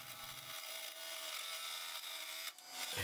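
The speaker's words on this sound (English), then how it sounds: "I mount the piece between centers on the lathe and use the roughing gouge to turn it true" Wood spinning between centers on a lathe is cut with a roughing gouge, giving a steady close scraping hiss with a faint low hum from the machine, unbroken for about three seconds.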